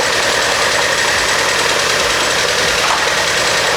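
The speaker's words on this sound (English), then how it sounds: "now that it's holding idle just fine, I'm gonna go ahead and let it run for about 10 minutes" An NA Mazda Miata engine idling steadily after timing setup, a close, loud, even rumble with a regular low pulsing beat and no voices.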